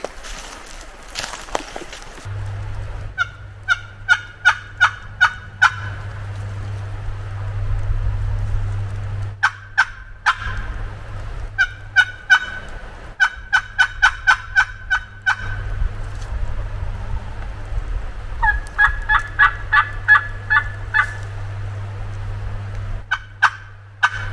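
A wild turkey gobbler gobbles repeatedly in rattling bursts, moderately distant, on a Kentucky hardwood ridge, over a steady low hum, with a few rustling footsteps in between.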